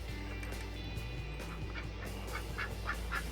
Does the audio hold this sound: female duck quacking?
yes